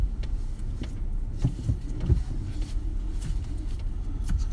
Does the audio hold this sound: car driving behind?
yes